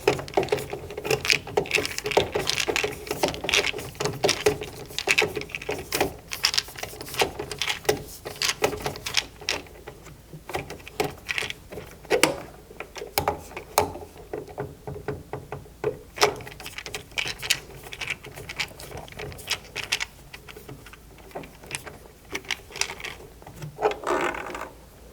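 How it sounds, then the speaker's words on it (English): Mounting screws being driven into a gas furnace draft inducer motor, giving a steady run of dense mechanical ratcheting clicks and metallic tool scrapes, close and fairly loud, with no voices throughout. "Screwing the mounting"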